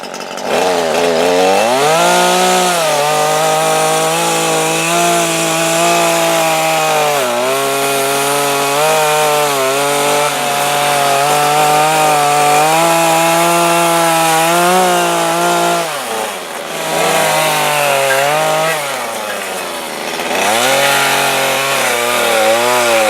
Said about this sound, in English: So I'm going to get cutting into there using my little still